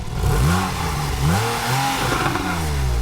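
A Porsche engine with a 7-speed PDK gearbox fires up and revs, rising and falling in several swells of engine tone, loud and close with a steady rumbling underneath.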